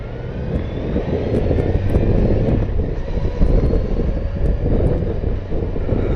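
Kawasaki Versys motorcycle on an afternoon ride, a loud continuous engine drone mixed with heavy wind rush, steady throughout with no talk.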